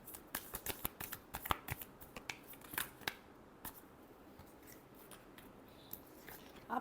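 Tarot cards are shuffled in quick, crisp riffles and flicks close by, a burst of snapping clicks that thins into scattered softer taps and shuffles, alone without talk.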